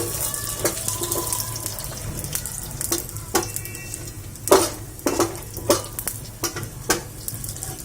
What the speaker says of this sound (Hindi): इसके बाद हम इसमें डालेंगे कच्चा मूंगफली दाना। इनको अच्छे से फ्राई करें।